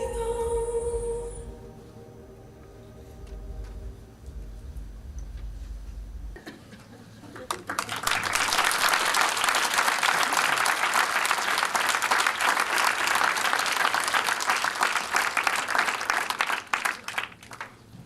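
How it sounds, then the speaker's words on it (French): A film screening debate audience applauds loudly and steadily from about eight seconds to the end, after a stretch of music with singing at the start. "merci pour les applaudissements"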